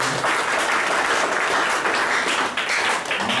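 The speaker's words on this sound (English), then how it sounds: "Give him a round of applause again for beautiful talk." A lecture audience breaks into loud, dense applause after a talk on electronic money, many hands clapping steadily and close for the whole stretch, with no speech.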